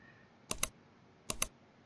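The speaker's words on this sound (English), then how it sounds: "Now hit the 3 keys at the same time." Computer keyboard keys are pressed in two quick double clicks, crisp and close, over a faint background hiss.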